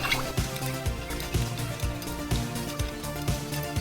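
Homemade body mist liquid is stirred in a small container, giving rhythmic clinking and sloshing strokes about twice a second, close and moderately loud, with faint music in the background.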